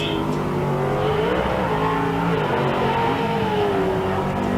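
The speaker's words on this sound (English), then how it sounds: "Well, you know Mason's got a fast truck." Short course racing trucks at the SBC Fairgrounds roar continuously at high revs, engine pitch rising and falling as they race close by, loud and without talk.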